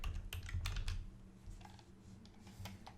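Quick bursts of typing on a computer keyboard while entering text into a WordPress menu, with irregular close clicks that pause briefly before resuming, no voice present.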